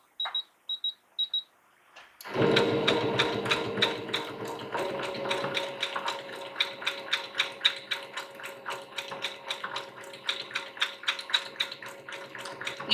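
A sewing machine stitches a wavy vine line through a raw-edge appliqué fall sampler quilt block: a few light taps, then a steady, rapid run of close mechanical clicking and whirring.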